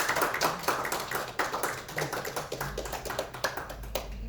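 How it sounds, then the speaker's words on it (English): Steady clapping from a small group, a patter of overlapping hand claps lasting several seconds at moderate volume. "Let's just give Bill another nice round of applause."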